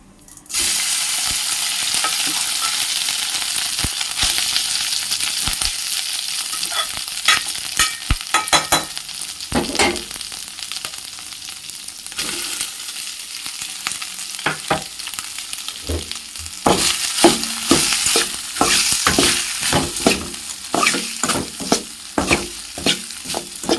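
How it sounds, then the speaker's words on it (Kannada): Leftover rice being stirred and tossed in a hot pan, a continuous sizzle broken by repeated scraping strokes of a spoon, close and fairly loud with no talking. "ಸ್ವಲ್ಪ ಬಿಸಿ ಚೆನ್ನಾಗಿ ಆಗೋವರೆಗೂ ಮಿಕ್ಸಪ್ ನಾವು ಈ ಥರ ತಿರುಗ್ತಾ ಇರಬೇಕು"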